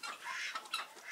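Muscovy duck on a farm, a short burst of breathy, hissing calls close to the microphone, heard alone.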